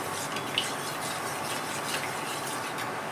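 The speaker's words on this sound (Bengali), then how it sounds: "দিয়ে দিচ্ছি কতগুলো জিরে, আর দিচ্ছি আমি গোটা গোলমরিচ। ফোড়নটা একটু ভেজে নেব।" Cumin seeds and whole black peppercorns frying in hot oil for rajma curry, a steady soft sizzle with faint crackles throughout.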